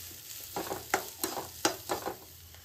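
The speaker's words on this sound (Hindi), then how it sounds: "धुला हुआ मूंग दाल मैं इसमें डालूंगी, थोड़ा सा ना इसको फ्राई कर लेंगे इसी के साथ ही" Papaya and washed moong dal frying in a kadai, a sizzling bed broken by repeated crisp stirring scrapes and clatters at an irregular pace.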